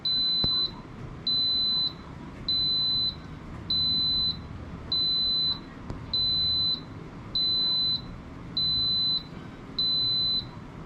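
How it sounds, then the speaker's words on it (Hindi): An Instant Pot electric pressure cooker signals the end of cooking with nine evenly spaced, clear electronic beeps, each lasting under a second, over a faint background hum. "जब इसका टाइमर कंप्लीट हो जाएगा, इसका कुकिंग टाइम कंप्लीट हो जाएगा तो एक मेलोडी साउंड के साथ ये स्विच ऑफ होगा"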